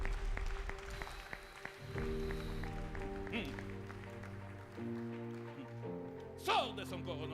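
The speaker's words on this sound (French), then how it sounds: "Applaudis très bien pour le Seigneur." A congregation claps at a church Easter seminar, a steady wash of applause running beneath organ-like music and voices throughout.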